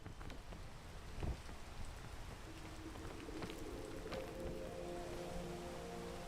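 Rain falling in the video game PEAK, a soft, steady hiss of drops that stays faint throughout, with a few brief taps and a low tonal hum rising under it late on.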